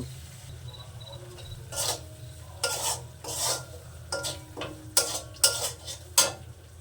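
Turmeric spice paste sautéing for aloo dum with peas, a faint low sizzle under a string of metal spoon scrapes and clinks against the pan that grow louder and quicker toward the end, no talk.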